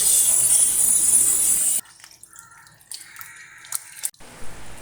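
Water pours steadily into a cooking pot of chopped raw jackfruit for a Kerala jackfruit curry, a loud rushing stream that stops abruptly and gives way to scattered close drips.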